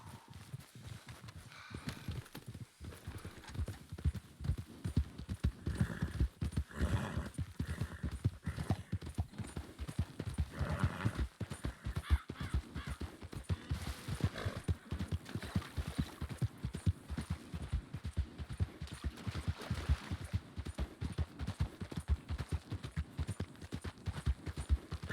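Horses gallop in the Red Dead RP game, including a white horse and a black horse with a white mane and tail. Their hoofbeats drum quickly and rhythmically for the whole stretch, close and fairly loud.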